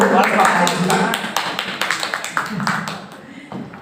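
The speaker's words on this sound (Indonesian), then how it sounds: "Kita beri tepuk tangan yang meriah Bapak Ibu." Applause from teachers and staff at a school presentation in a Jakarta high school, moderate clapping that starts fairly full and thins into scattered individual claps before fading, with a voice talking over it.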